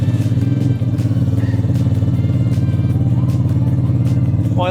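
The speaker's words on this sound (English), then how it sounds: "sounds even deeper with the larger engine in it" Motorcycle engine fitted with a Malossi big bore kit idling up close, a loud, deep, rapid even putter with a mechanical clatter and a brief squeak at the end.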